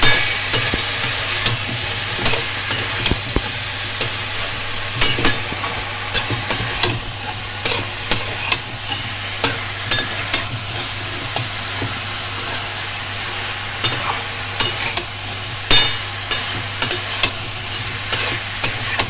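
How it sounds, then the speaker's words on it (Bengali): Eggplant is sautéed with spices and garam masala in a pan. A loud close sizzle is broken by frequent sharp spatula scrapes and clinks in an uneven rhythm, with no talking. "এবার এগুলোকে একসাথে ভালো করে বেগুনের সাথে কষিয়ে নিতে হবে"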